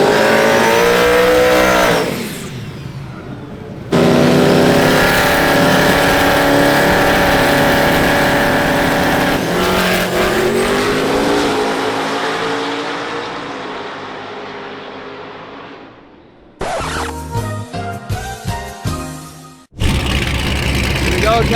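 Dodge Demon 170 launching down a drag strip in a rolling wheelie at a Streetcar Takeover event in Charlotte, a loud sustained roar that climbs and fades into the distance, followed by rapid revving bursts from another car.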